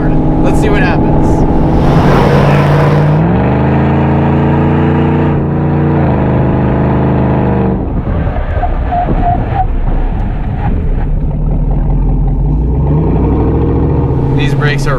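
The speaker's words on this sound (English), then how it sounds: "we're going to hit the brakes really hard" A GMC Denali pickup with the HPE650 package drives hard around a track and brakes heavily into a straightaway. Engine and road roar run loud and steady throughout, with pitch shifts as it slows, under a driver's voice.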